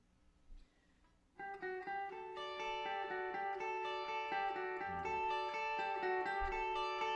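Clean electric guitar with no delay effect, a few faint plucks and then a string of bright, ringing picked notes with a distorted edge, played up close and steady without echo trails.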